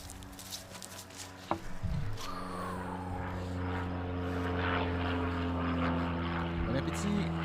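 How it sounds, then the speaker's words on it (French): An airplane engine drones steadily with a sustained tonal hum that swells slightly, heard over a background of indistinct voices. "Bon, l'avion right on time."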